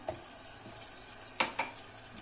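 Hot water poured into a pan of sizzling fried minced meat with tomato paste, a steady frying hiss with a couple of sharp bursts of crackle, close and moderately loud, no talking.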